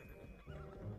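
A horse in the mobile game Project Evo Rust gives one brief, faint neigh, over almost at once.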